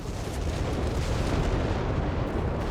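Dense, rumbling barrage of artillery fire in the Company of Heroes 3 strategy game, a continuous booming roll of overlapping explosions heard close and loud for a few seconds.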